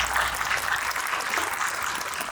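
Audience applause welcoming a panelist at a Korean railway vehicle technology seminar, steady moderate clapping from a seated crowd, fairly close, without talk.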